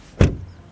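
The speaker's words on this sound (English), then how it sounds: "Door closing sound." The door of a 2022 Skoda Fabia swings shut with a single close, dull thud that decays quickly into quiet, with no voices.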